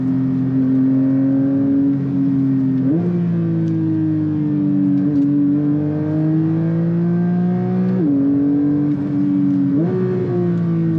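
A Porsche 911 GT3 Touring engine drones loudly and steadily, its pitch rising through the revs toward 9,000 RPM and dropping back at each gear change, heard from inside the car in a tunnel.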